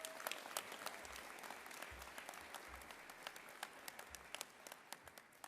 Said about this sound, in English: How about another round of applause for all of our Congress leaders?